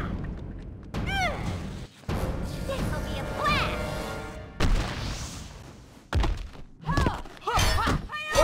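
Harley Quinn's mallet strikes land in Injustice: Gods Among Us as heavy, booming thuds and crashes layered with whooshing effects and game music, while a voice speaks over parts of the fight.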